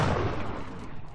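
Gunfire in the XCOM: Enemy Unknown video game, a dense burst of booming shots and rumble, loud and close, with no talk over it.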